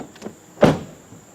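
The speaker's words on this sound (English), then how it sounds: "okay, so close the door." Chevrolet Suburban door swinging shut and latching after a door actuator replacement, one solid close thunk preceded by faint small clicks.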